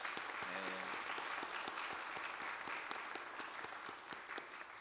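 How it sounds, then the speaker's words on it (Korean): A church congregation at a New Year prayer meeting applauds its women's mission society members with a steady, even patter of clapping, heard faint and somewhat distant throughout. "우리 여전도회 임원들, 우리 여전도회 회원들에게 격려의 박수하겠습니다"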